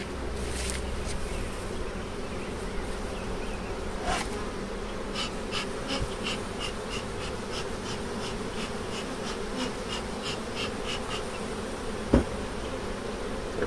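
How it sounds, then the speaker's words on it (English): Honey bees hum steadily around an open beehive with a queen excluder in place during a strong nectar flow, a dense continuous buzz with individual bees passing close by, and a single sharp tap near the end. "These bees are doing such a wonderful job."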